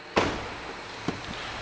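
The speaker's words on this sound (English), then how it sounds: "Let me unlock the door." The rear door of a pearl white 2008 Cadillac Escalade unlocks with a sharp, close mechanical click and a second, smaller click about a second later, over a quiet outdoor hum.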